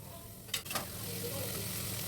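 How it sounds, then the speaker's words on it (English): Sliced onions and chopped capsicum sauté in a pan, a faint steady sizzle with a couple of quick clinks of stirring near the start. "And in goes some sliced onions, you can roughly chop them, and some chopped capsicum. Saute them nicely."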